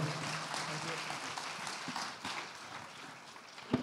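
Audience at a business forum giving a round of applause, a dense wash of clapping that fades slightly midway and then swells again, with no voices over it.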